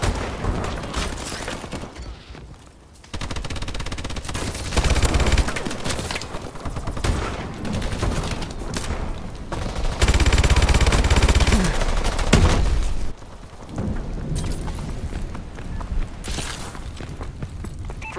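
Remote turret in Call of Duty Advanced Warfare opening fire, with sustained bursts of rapid gunfire and heavy booms rising and falling across the scene, loud and dense with mechanical clatter between volleys.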